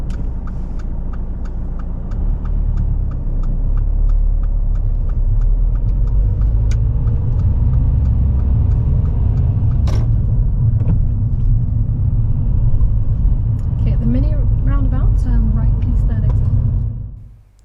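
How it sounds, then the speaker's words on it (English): A car pulling away in second gear during a driving lesson, its steady engine rumble continuous and close for most of the stretch, with a person talking over it before the sound cuts off at the end. "Now moving off in second gear is not a problem as long as the car doesn't switch off."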